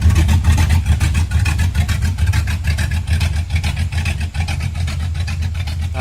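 An old '57 car's small block Chevy engine runs steadily at idle, a loud, continuous low rumble with a rhythmic chug throughout, no voices.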